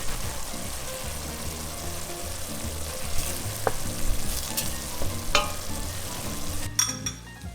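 Dry wine reducing in a pan in a kitchen in Volterra, making a steady bubbling sizzle with intermittent stirring scrapes and clinks, heard up close, then a clatter near the end and no talking.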